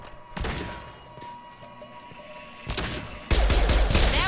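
Gunfire in the video game Mass Effect 2, bursts of rapid shots and heavy impacts that swell to a loud, dense volley near the end, with no talk.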